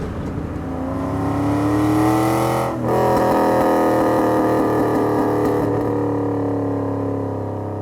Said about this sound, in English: When you let off the throttle, you still get that exhaust crackle.